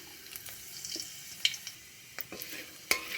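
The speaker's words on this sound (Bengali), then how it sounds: "ফোড়নে দেব শুকনো লঙ্কা আর দেব 5 ফোড়ন" Dry red chillies and five-spice seeds sizzling in hot mustard oil in a wok, a soft close hiss broken by a few sharp crackles and spits.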